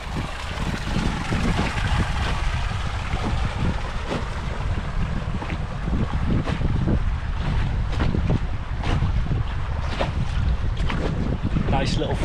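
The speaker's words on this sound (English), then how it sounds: "the wind's just spinning me around a little bit" Steady, loud wind buffeting the microphone while canoeing on a river, a constant roaring rush with water movement underneath and brief voice sounds mixed in.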